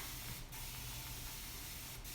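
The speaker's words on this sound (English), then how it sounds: "this is a misting atmospheric water bottle" Fine-mist water spray bottle used on curly hair, two short airy hisses of mist about a second and a half apart, over a steady noisy background.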